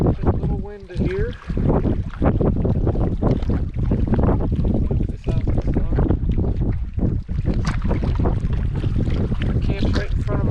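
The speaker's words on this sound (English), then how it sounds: "It's a little windy here." Steady wind gusts buffet the microphone beside a canoe on Yellowstone Lake as it nears a lakeside camp on a point, a loud continuous rush with faint paddle and water sounds and a brief voice near the start.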